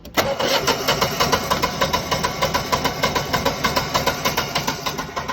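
A Generac 17kW air-cooled standby generator engine cranks and catches almost at once, then runs with a steady, rhythmic pulsing chug close by, with no voices.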